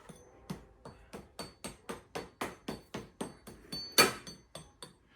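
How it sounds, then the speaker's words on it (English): A crisp crust of freshly baked rosemary garlic sourdough focaccia is tapped about fifteen times in a steady rhythm, each a sharp, dry, close knock, with one louder tap near the end. "So it's got a nice crisp crust to it"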